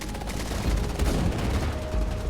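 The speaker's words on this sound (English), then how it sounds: "don't shoot me from behind, come on." Rapid gunfire crackles through a tense firefight in the shooter game Wild Assault, dense overlapping shots and bursts running continuously at close range with no talk.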